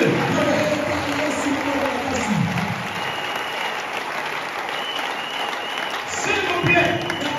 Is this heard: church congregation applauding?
yes